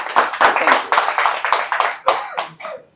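Sharp hand claps from a small audience at a student feedback session for an inverter AC PCB repair course, a dozen or so distinct claps in uneven rhythm, close and fairly loud, fading toward the end.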